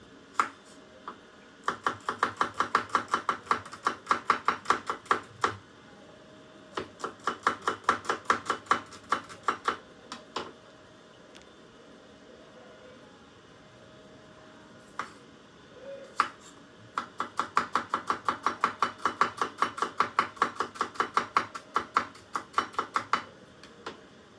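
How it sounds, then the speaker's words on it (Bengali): A knife chops onions on a board in a home kitchen, giving fast, even knocks in three long bursts separated by quiet pauses, close and distinct. "পেঁয়াজ কাটাটা শেষ করলাম।"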